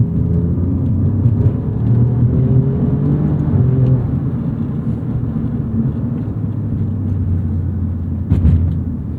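A 2018 Alfa Romeo Giulia Quadrifoglio with a GTAm tune accelerates on a road, giving a loud, continuous engine rumble that swells and eases, with a brief sharp knock near the end.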